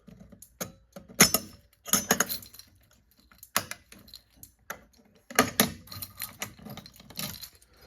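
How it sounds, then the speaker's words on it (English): Relays in an Arduino-built home fire alarm panel click away in irregular bursts, crisp and close, with clusters of rapid snaps separated by brief pauses. "You can hear the relays clicking away."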